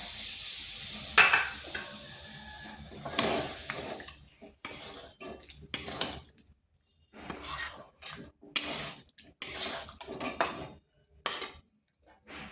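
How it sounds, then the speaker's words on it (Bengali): Water used to rinse a bowl of poppy seeds and cashews poured into a pan of potatoes for niramish alur dum, a loud hiss at first, then bursts of stirring scrapes and sizzle with quiet gaps. "আর এখানে দিচ্ছি ওই পোস্ত আর কাজু বাদামের বাটি ধোয়া জলটা"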